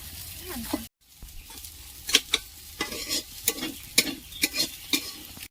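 Prawns fry in hot oil in a village kitchen, crackling and sizzling while a utensil stirs them, giving irregular scraping bursts close by.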